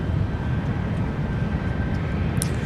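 An aircraft being pushed back at MSP airport gives off a steady, loud low rumble of engine and ground noise that holds evenly throughout, with no talk.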